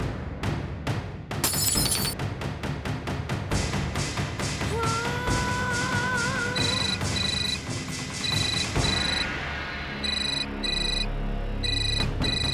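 A telephone rings in repeated electronic bursts near the end, after a busy stretch of rhythmic taps, thuds and a brief shattering sound.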